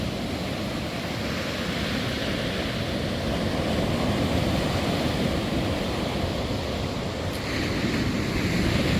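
Ocean waves break against offshore rocks, a dense continuous roar of surf and spray with wind buffeting the microphone, loud and steady without pause.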